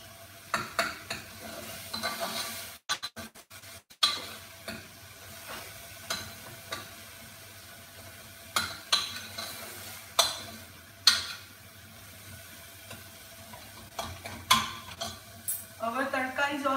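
A tadka with coriander powder sizzles in a pan as a spoon stirs and scrapes it, a soft frying hiss under intermittent metallic knocks, close and mostly without talk.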